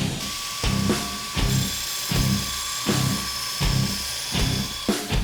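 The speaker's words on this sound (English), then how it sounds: "John now takes the overlays to the sander where he deburrs them" A sander grinds metal overlays for a Daedric axe, deburring and beveling them in repeated passes, with a steady high whine broken by rhythmic louder bursts as each piece is pressed against the abrasive.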